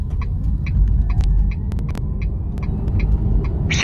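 A JAC iEV S4 electric car pulls away from a standstill with a steady low rumble of road and cabin noise, a faint rising whine, and regular soft ticking over it, no talk.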